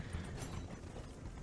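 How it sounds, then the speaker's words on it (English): Hooves of a horse galloping at a steady run in the open-world video game Red Dead Redemption 2, a low rapid clip-clop rhythm heard close and alone, with no talk over it. "I just decide to get on my horse and run"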